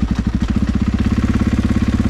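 A motorcycle engine runs steadily with the bike in gear on a frozen winter day, a loud, close, even pulsing thump with no talk.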